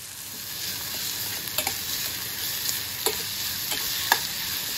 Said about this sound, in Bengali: শুকনো মরিচগুলোতে তেলে নেব, রসুন আর পেঁয়াজ, এটাকে একটু ভাজবো, সাথে চিংড়ি মাছ দেবো